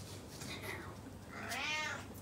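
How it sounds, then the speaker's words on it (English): A pet cat gives a drawn-out meow with a rising, wavering pitch, fairly close and moderately loud, following a fainter earlier mew, over a steady indoor background hum. "Shout out my dog, Cat, even though he a cat."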